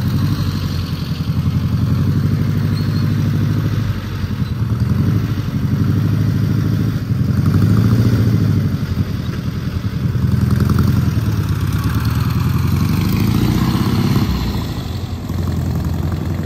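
An original 1.6-litre car engine runs steadily and loudly, with a deep, continuous rumble that holds close and unbroken throughout, and no voices are heard.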